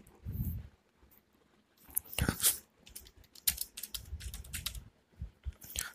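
Computer keyboard keys tapped while typing text into OpenOffice Writer, heard as bursts of close, crisp clicks with short pauses between words and no talking.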